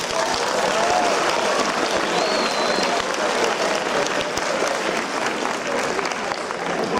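Audience applauding steadily at an anime convention opening ceremony, a dense, sustained wash of clapping from a large crowd in a hall, holding at even loudness throughout.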